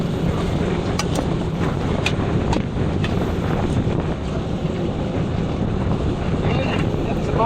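Loud, constant wind buffeting and rushing water around a small boat out on rough, wavy sea, a dense roar of wind noise on the microphone with splashing waves throughout.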